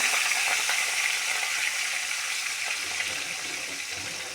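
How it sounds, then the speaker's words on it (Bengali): Rui fish pieces frying in a pan, a continuous loud oily sizzle with fine crackles and spatters, steady from start to finish and free of any talking. "সব মাছগুলি ভাজা বসিয়ে দেবো এরকম করে একটা একটা করে"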